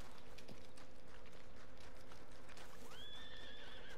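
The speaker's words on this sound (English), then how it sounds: "I heard my horse freaking out." A horse on a trail ride gives a loud rising whinny near the end, preceded by a brief lower neigh and faint hoof clip-clop, with no talk.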